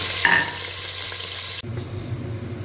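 Chopped onions hit hot groundnut oil in a pressure cooker along with cinnamon and cloves, giving a loud, steady frying hiss that drops off abruptly partway through and gives way to a quieter, lower sizzle.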